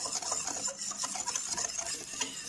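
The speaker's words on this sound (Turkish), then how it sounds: "Ocağı almadan önce bir güzel karıştırıyorum." A spoon stirs a dessert cream of flour and sugar in a pot with quick, continuous scraping and rubbing strokes, close and moderately loud, with no talk.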